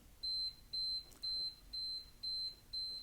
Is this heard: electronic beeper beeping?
yes